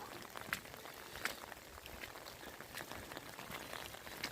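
Morning rain mixed with falling snow in a Kashmir valley: a soft, steady patter of drops spread evenly across the clip, fairly faint, with no voices.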